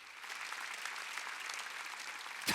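A church congregation claps during a Korean Wednesday worship service, a steady wash of many hands applauding at moderate distance, fairly quiet and continuous, with no talk over it.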